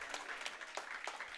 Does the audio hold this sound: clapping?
yes